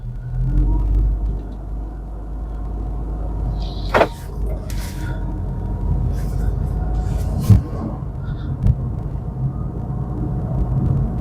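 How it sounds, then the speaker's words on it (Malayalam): Honda Elevate 2024 SUV pulling away in drive mode, a steady low road rumble and engine drone with a few brief sharp knocks and clicks along the way. "അപ്പൊ ഡ്രൈവ് മോഡിലിട്ട് വണ്ടി എന്നാ പറയുന്നത് ചീത്തയുടെ സ്പീഡിലാണ് വണ്ടി പോയിക്കൊണ്ടിരിക്കുന്നത്"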